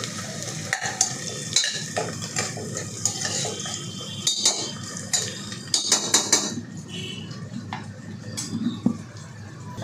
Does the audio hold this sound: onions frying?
yes